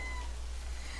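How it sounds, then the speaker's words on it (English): A short cat meow from the video game Livber: Smoke and Mirrors rings out faintly over a steady low hum. "Oh, kitty cat."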